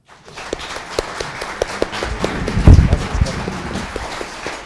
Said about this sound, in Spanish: les pido un aplauso para él, por favor